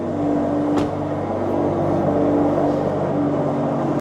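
A Porsche GT4 engine hums at a steady idle close by, a continuous low drone with faint tonal whine and no speech, ending abruptly.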